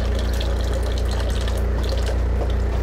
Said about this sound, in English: And I actually like to use really hot water when I do this.